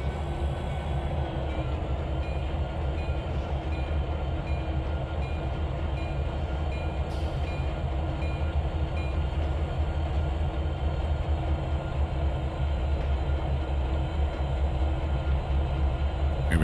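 A train moves gasoline tank cars during yard switching, a continuous close rumble of wheels and wagons rolling with a steady, droning low roar and a faint high tone, no talk.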